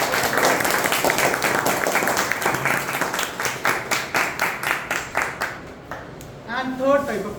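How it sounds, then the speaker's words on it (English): A Toastmasters audience gives a round of applause, dense at first and then breaking into slower distinct claps before a voice starts speaking at the end. "Let's give a huge round of applause."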